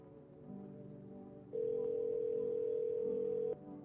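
Telephone dial tone in a video game: a single steady tone switches on partway through, holds for about two seconds over faint background game sound, then cuts off.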